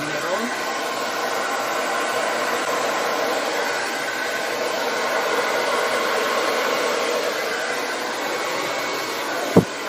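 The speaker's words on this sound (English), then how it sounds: "I'm going to take my dryer. It's on cold, low" Hair dryer set to cold and low blowing fluid paint across a small canvas during a Dutch pour, a steady loud airy whoosh held throughout with a brief bump at the end.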